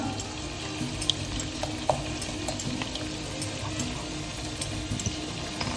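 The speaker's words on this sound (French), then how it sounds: "je récupère ma compotée de tomates qui a cuit dans l'huile d'olive et les épices que j'ai délayées avec de l'eau. Et là, regardez, je la verse dans ma rosban" Tomato compote cooked in olive oil and spices, thinned with water, is poured into a couscous pot, making a soft continuous liquid hiss and bubbling with a few faint clinks, fairly quiet and steady throughout.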